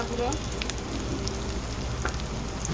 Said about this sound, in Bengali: মশলা খুব ভালোভাবে কষতে হবে মশলা থেকে যতক্ষণ না তেল ছাড়ে ততক্ষণ পর্যন্ত